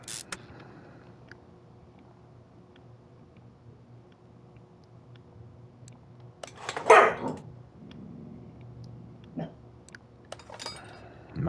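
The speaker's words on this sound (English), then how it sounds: "My dog heard something." A single dog bark rings out once midway through a quiet indoor room, close and fairly loud, surrounded by faint clicks and light background noise.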